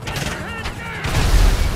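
Gunfire strikes an armored 2015 Dodge Charger in the video game GTA V, a few sharp booming impacts in quick succession followed by a louder low rumble, with some talk mixed in.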